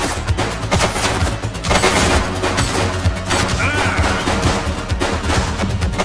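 Sustained gunfire rattles through a police shootout in The Precinct video game, with dense overlapping shots and booms forming a loud, continuous fusillade from start to finish.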